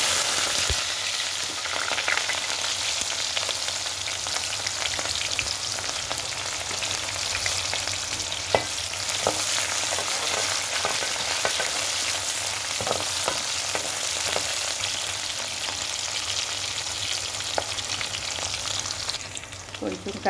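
Fenugreek seeds and tempering spices splutter and crackle in hot oil for pesara punugula pulusu, a steady dense sizzle with scattered sharper pops, close and constant.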